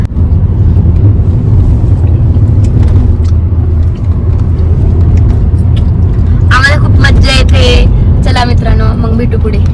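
A car on a family road trip gives a steady, loud low engine and road rumble throughout, and voices of passengers talking come in near the end.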